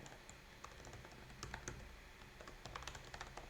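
A name typed on a computer keyboard, a quiet run of close, irregular key taps in quick bursts with no voices.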